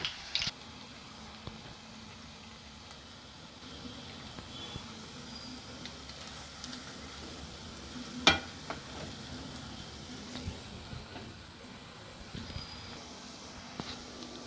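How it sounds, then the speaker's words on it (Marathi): Manchurian balls frying in oil over a medium flame, a low continuous sizzle with occasional soft stirring clinks, fairly quiet and without talk. "मंचुरियन आपल्याला मध्यम गॅसवर तळून घ्यायचे आणि लाल करायचे"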